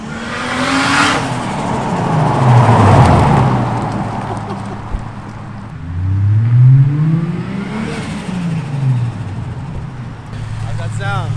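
A Toyota Supra engine revs and accelerates hard from inside the car, rising through gears in loud sweeping climbs with a dip between pulls, while people talk over the roar.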